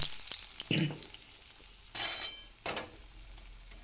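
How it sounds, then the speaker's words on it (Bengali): Small cut potato pieces are lightly fried in hot oil in a wok, a quiet sizzle punctuated by a few sharp bursts of spitting and stirring scrapes, with faint clinks of a utensil. "ওই তেলের মধ্যে আমি আলুটাকে একটু হালকা করে ভেজে নেব"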